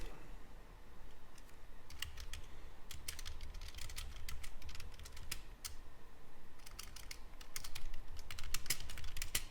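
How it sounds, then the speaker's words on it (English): Rapid typing on a computer keyboard, with irregular bursts of clicking keys close by against a quiet background hum and no talking. "Yes, you hear typing."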